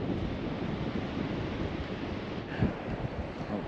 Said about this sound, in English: We are down on Goldsmith Beach.